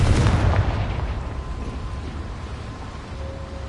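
A Confringo blasting-spell explosion in Hogwarts Legacy: a loud, close boom with deep low rumble that decays slowly over several seconds, with no voices.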